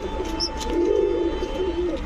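A large white Lotan pigeon coos steadily and close by in a pigeon shop, a soft, continuous low warble that lasts throughout, with a faint chirp above it.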